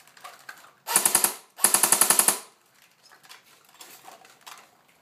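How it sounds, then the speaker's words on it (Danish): Two close, loud bursts of full-automatic fire from a Chinese-made airsoft AK-47 replica, each a rapid string of sharp mechanical clacks: a short burst, then a longer one of about eight shots, with quiet background afterward and no talk. "Så vi skyder lige på semi-automatisk. Og nu fuld automatisk."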